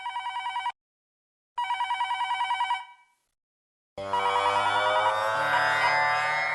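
A home telephone rings loudly in a domestic scene, two bursts of rapid electronic trilling separated by a pause, then the ringing gives way to swelling dramatic music.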